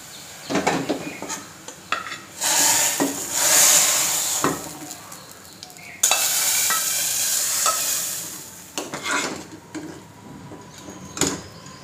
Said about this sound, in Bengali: যে মশলাগুলো আমার ভাজা হয়ে গেছে আপনারা চাইলে এবার কিছু পাঁচফোড়ন দিয়েও ভেজে নিতে পারেন।